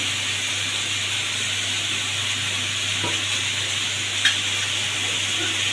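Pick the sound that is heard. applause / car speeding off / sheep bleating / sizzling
sizzling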